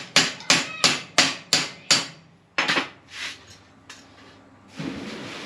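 A hammer strikes a metal part shaped in a vise, seven sharp ringing blows in quick steady succession, then a pause and a few lighter, more scattered taps before a soft scrape.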